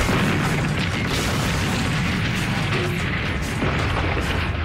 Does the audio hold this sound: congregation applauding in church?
no